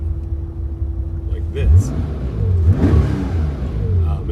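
A car engine revs in short blips during a heel-toe downshift, the rising throttle bursts rumbling close under someone speaking over the sound.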